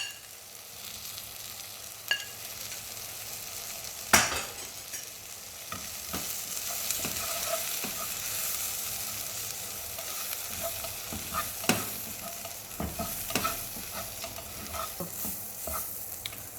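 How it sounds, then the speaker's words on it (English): Homemade masala, garam masala, fenugreek leaves and coriander powder roast in a pan for mushroom curry, with a steady dry sizzle broken by repeated scraping stirs and occasional sharp clicks of the spoon against the metal. "Roast the masalas until you get a nice flavoring smell"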